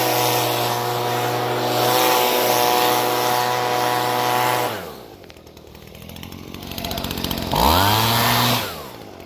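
A leaf blower running in a yard, its engine droning steadily and loud, then dropping off and revving back up again near the end.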